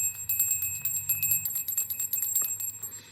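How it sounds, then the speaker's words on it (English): A small hand bell rings rapidly and repeatedly for a few seconds to clear energy during a live spiritual session, bright sustained tones shimmering over a faint low hum, with no talking. "Where's my bell?"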